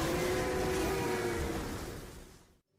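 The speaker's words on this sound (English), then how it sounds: "That's the roar of the monster next to come." A rumbling monster roar from the mobile game Monster Hunter Now, loud and sustained with a deep broadband growl that fades out near the end before cutting to silence.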